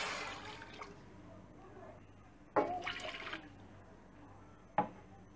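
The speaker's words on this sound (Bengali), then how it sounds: "এখানে দিয়ে দিব 2 কাপ পরিমাণ পানি।" Two cups of water are poured into a pan on a stove, with short bursts of splashing and pouring separated by quiet pauses.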